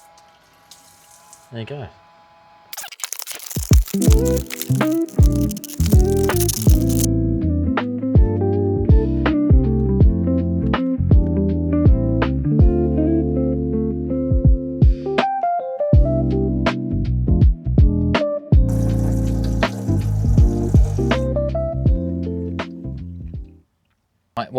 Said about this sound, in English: Our pump's running.